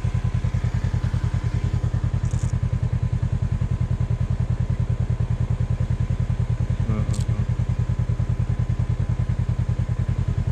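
A motorcycle engine runs steadily as the rider sets off on a solo trip to Khao Jod, a close, loud, even throbbing idle with a couple of faint clicks and no talk.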